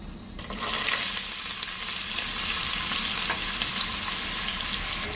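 Chopped onions go into hot oil for a homemade chipotle bowl and set off a loud, steady sizzle that starts abruptly within the first half second and holds evenly, close up, with no talk.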